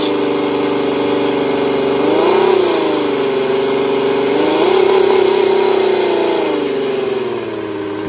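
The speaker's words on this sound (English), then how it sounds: "this guy is making his engine run off of soup" A car engine fuelled with SpaghettiOs soup runs steadily with a mid-pitched drone, rising in two revving swells before settling, close and loud with no talking.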